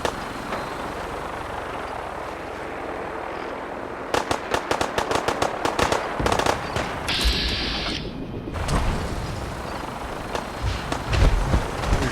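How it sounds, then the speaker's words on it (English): Gunfire in Fallout 4, with bursts of sharp cracking shots arriving in clusters over a rumbling, noisy background and heavier thuds later on, with no voices over it. "Oh, there's somebody shooting at me."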